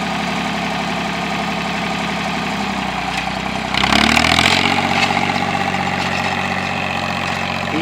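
A tractor drags a subsoiler through field dirt, its engine a steady, loud, droning idle that swells and strains briefly partway through before settling back to a constant rumble.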